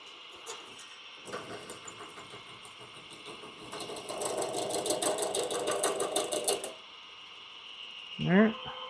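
A drill turning at about 400 RPM under slow, steady pressure while boring through parts for a pen build, heard as a close continuous whirring motor drone that swells and then stops, with a short voice afterward.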